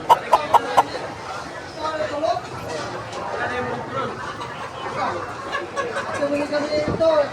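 Chickens cluck and squawk amid market bustle at Bankerohan Public Market, with people chattering nearby and a few sharp knocks at the start.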